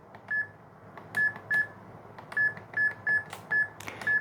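A KIS-8611Q wireless card terminal keypad sounds a series of short, clear beeps as a phone number is keyed in, spaced unevenly and close, alone over a quiet background.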